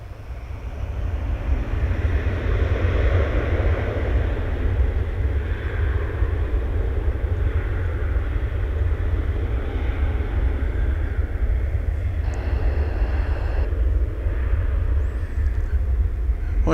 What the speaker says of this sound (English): we've got this Airbus A321 headed out to Airline Videos Live Land in Los Angeles